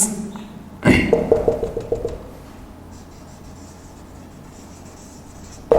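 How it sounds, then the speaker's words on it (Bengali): Pen or chalk writing out a line of text in a classroom grammar lesson, a quick burst of close scratchy strokes followed by quieter room tone with faint taps. "এবার আমি একটি লাইন লিখি"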